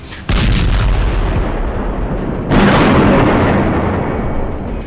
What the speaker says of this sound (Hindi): जिस वक्त गाजा की गली गली में इजरायल के बम गिर रहे हैं, जिस वक्त गाजा पर इजरायल की वायुसेना टनों टन बमबारी कर रही है